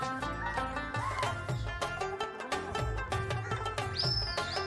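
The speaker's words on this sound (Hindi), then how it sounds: "ये कबूतरबाज हैं जो सीटियाँ मार रहे हैं" Shrill whistles and calls from pigeon fanciers rise over a busy outdoor scene in Pakistan as pigeons fly, with music-like tones and clatter in the background, some whistles sliding upward.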